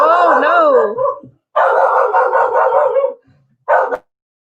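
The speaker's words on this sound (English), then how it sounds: "so I'm sorry if you can hear her barking" A dog named Kayla barking and howling indoors, several drawn-out, wavering yowls and barks in three bursts with short gaps between, loud and close.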